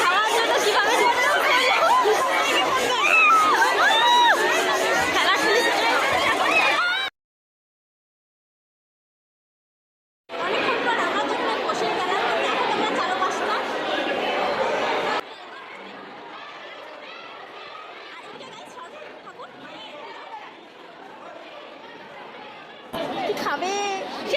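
A dense crowd at a college program chatters loudly, a thick babble of many voices with scattered laughter, cut by a few seconds of silence, then returning and later thinning to a quieter murmur.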